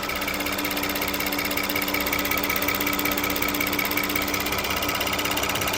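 A rebuilt VW CC engine runs on its first start indoors, a loud, steady mechanical clatter and whir with a constant high tick, unbroken and alone without talk.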